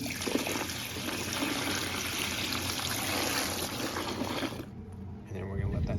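Warm water mixed with Follett Safe Clean Plus is poured into a Follett 15 series ice machine, a steady splashing gush that thins out toward the end, close by.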